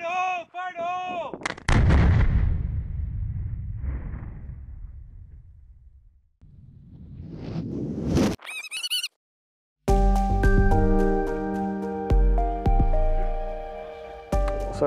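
An explosive ordnance detonation during disposal training with the 9th Civil Engineering Squadron lands as one loud, deep boom that rolls into a long, fading rumble, surrounded by sharp synthetic tones and abrupt edited sounds.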